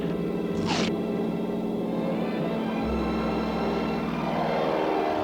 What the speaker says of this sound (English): It's a plane!